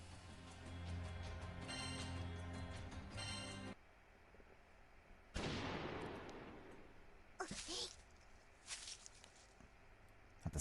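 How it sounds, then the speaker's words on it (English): A single gunshot cracks out in a Granblue Fantasy collab story scene, a sudden sharp burst that decays quickly. Quieter clatter and shuffling sounds follow, and no one speaks. "The moment Toga takes a step away from the monster, a single gunshot pierces the air."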